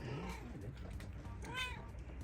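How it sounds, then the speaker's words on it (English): A cat meows softly a few times, faint and close, over a low background hum aboard a sailboat in a marina. "Hello, kitty kitty."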